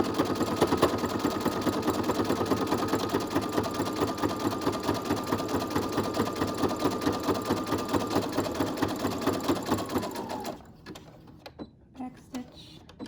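A sewing machine stitches straight across a homemade fabric medical mask in a steady, rapid mechanical chatter for about ten seconds, close and even, then stops, leaving a few faint handling clicks.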